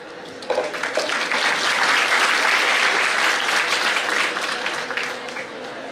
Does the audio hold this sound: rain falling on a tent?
no